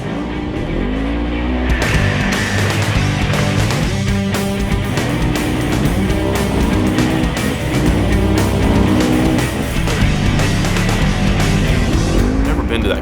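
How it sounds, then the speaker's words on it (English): Engine roaring steadily from a Polaris RZR UTV driving hard over loose sand on a beach, with revving surges and no talking, loud and close throughout. "Driving your RZR down the beach it's so fun."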